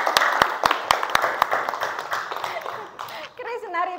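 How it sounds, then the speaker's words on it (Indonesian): An audience claps in a training session: sharp rhythmic claps, close and loud, that thin out after a few seconds as voices begin talking. "Tepuk tangan buat kita semua."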